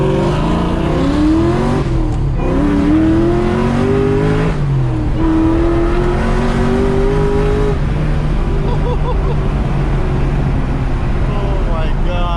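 Terminator Cobra with a 3-liter Gen 5 Whipple supercharger and factory forged motor, driving with a steady loud engine drone and whine as revs rise and settle, while excited voices talk over it.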